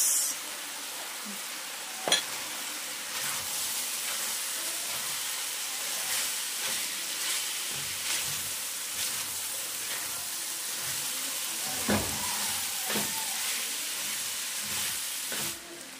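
Carrots and potatoes frying in a pan of pork empanada filling, a steady close sizzle with occasional sharper pops and stirring clatters, no talking.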